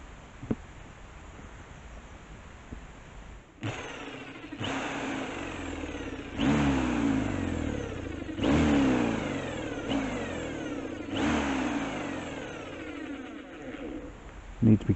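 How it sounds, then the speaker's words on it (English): A drill turning a slightly wider spade bit bores a countersink into the top wooden piece of a DIY bonsai turntable, heard as several close whirring bursts that rise and fall in pitch, with short pauses between them. "I'm just going to do a little countersink on this top piece, using a slightly wider spade bit."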